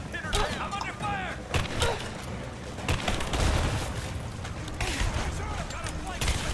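Enemy soldiers fire bursts of gunfire in Rise of the Tomb Raider, with rapid volleys and sharp shots repeating across several seconds, mixed with clanks and shouting voices of combatants.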